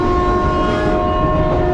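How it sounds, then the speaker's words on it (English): The Udayadevi passenger train rumbles along the railway track on the outskirts of Colombo, heard from on board as a loud continuous roar with a steady droning hum. "As the train rumbles along the outskirts of Colombo, clusters of houses flank the railway track."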